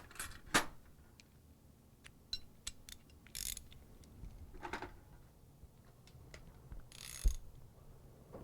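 Ratchet socket wrench with a 14 millimeter socket being handled and turned: scattered, quiet metallic clicks and short ratcheting bursts with pauses, close by in a quiet room.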